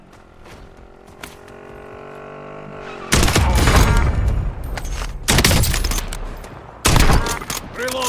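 Bursts of automatic gunfire in a military shooter video game, three loud, close fusillades after a quieter stretch of hum and distant shots, each burst lasting about a second or more.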